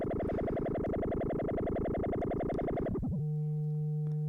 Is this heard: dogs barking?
no